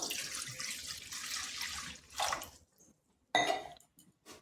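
Water pours steadily into a kadai for a couple of seconds, then stops, followed by a few light metallic clinks and drips nearby.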